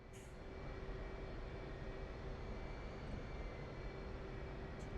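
Steady jet engine roar from a fighter aircraft in a flight simulator, idling on an aircraft carrier deck before a catapult takeoff, a continuous broadband rumble with a faint high whine, constant and unbroken throughout.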